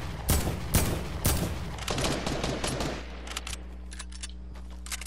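Bursts of rapid gunfire ring out in a video game, loud sharp volleys in the first few seconds, then lighter scattered shots over a low steady hum.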